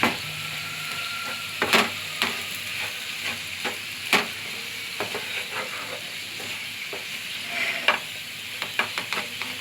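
A bitter gourd fry is stirred in a pan, a spatula scraping and knocking in scattered strokes over a soft, steady sizzle of oil, close and moderately loud, with no voices.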